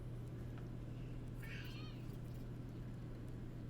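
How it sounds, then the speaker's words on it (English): A pet cat lets out one odd, faint meow partway through, set against a steady low hum from a quiet room. "My cat is just determined to make some of the weirdest noises we've heard in a while"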